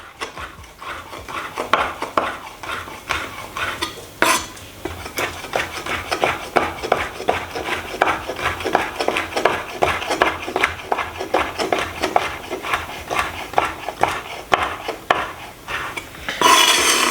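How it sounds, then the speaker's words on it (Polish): A knife slices sausage in quick, regular strokes against a wooden board, a steady tapping rhythm close by with no talking. "Kroję taką kiełbasę w plasterki."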